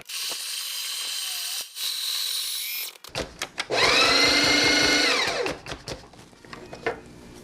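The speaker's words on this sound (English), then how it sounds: "The burrs almost touching each other, making that funny noise." A Breville Barista Express grinder with its burrs set almost touching, grinding 15 grams of coffee: a whirring mechanical hum, then a loud harsh scraping grind that rises and fades, with clicks and sputters at the end.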